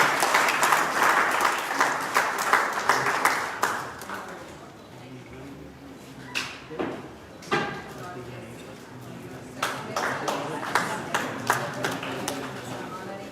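At a Covid warrior award ceremony, an audience claps in scattered bursts, loud at the start, then thinning out before picking up again. Voices can be heard among the claps.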